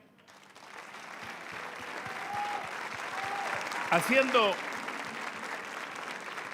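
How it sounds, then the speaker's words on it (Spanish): Steady crowd applause at the Chile Teletón 2021 opening speech fills the clip, broad and continuous, with a brief voice and a short musical flourish cutting through partway. "quisiera un aplauso para ello"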